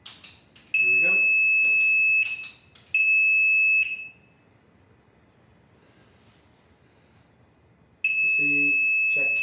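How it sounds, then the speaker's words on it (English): A map tuner connected to a snowmobile ECU during programming sounds long, loud, steady electronic beep tones in three bursts separated by quiet gaps, with a voice speaking briefly between them. "it'll beep at you a bunch."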